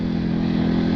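A KTM RC8 and a GSXR750 motorcycle on the road, a loud, steady engine drone close by with constant wind rush, unbroken for the whole moment.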